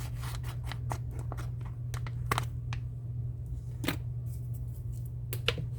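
Scissors cut open a package in a rapid series of close, crisp snips and crunches, some clustered and some spaced apart, over a steady low hum with no talking.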